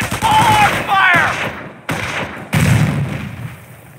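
Small arms and machine gun fire rattles in Company of Heroes, a World War II strategy game, loud dense bursts with overlapping shots and thuds, interrupted by brief gaps, over a busy battle din.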